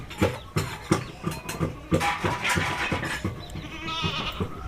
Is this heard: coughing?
no